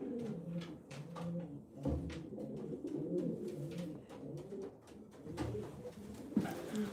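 Pigeons coo steadily inside a loft at night, several birds overlapping in soft, low, rhythmic calls, close by with faint rustling and no talking.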